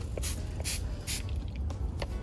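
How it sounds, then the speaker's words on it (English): Neem oil and dish soap mix sprayed onto an okra plant in a container garden, several short hissing bursts in a steady rhythm over constant outdoor background noise. "Maybe I'll spray a little bit here on this okra plant"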